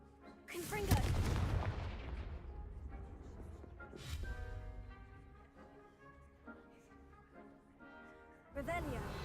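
A Confringo blasting spell fires in Hogwarts Legacy, a sharp explosive burst with a decaying rumble, followed by further fainter impact and magic effects amid game music and a speaking voice.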